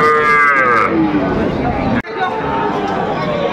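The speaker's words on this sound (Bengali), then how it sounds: "দর্শক আমরা দেখছিলাম এখানে ছোট্ট ছোট্ট ষাঁড় বাচ্চা সংগ্রহ করছে মাজারুল ভাই" Young bulls and calves moo loudly at close range at a cattle market, a long low call at the start, with a crowd chattering in the background throughout.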